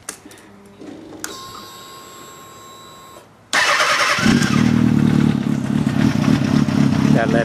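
A 2007 Kawasaki ZX6R sport bike with aftermarket headers cranks over and catches, then settles into a loud, steady idle that rumbles on close by, alone with no talk.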